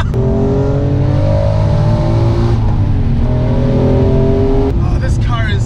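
A Honda NSX sports car accelerates hard in close, loud engine sound, its revs climbing steadily through two gears with a brief dip at the shift and a voice calling out near the end.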